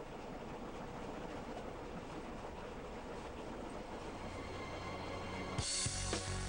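The Train Deluxe passenger train, running north out of Bulawayo, rumbles along the rails in a steady, continuous roll, with faint rhythmic clatter and a sharp jolt and louder clanking toward the end.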